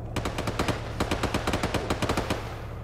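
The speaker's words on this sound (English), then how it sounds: "I can't see what's being shot at." Automatic gunfire in a military shooter video game comes as two rapid bursts of evenly spaced, close shots over a low steady background hum.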